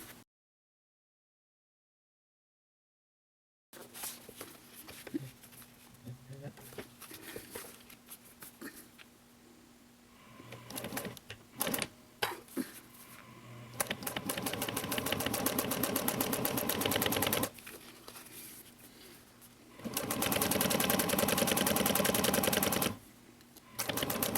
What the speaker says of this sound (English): we're going to top stitch this one just like we did the other one